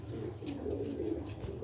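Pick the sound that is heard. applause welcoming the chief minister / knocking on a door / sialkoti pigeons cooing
sialkoti pigeons cooing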